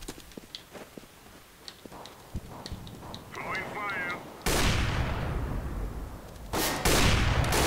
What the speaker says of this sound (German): jetzt knallen sie sich gegenseitig ab